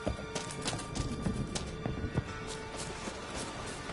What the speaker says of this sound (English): Oi, clumsy horse.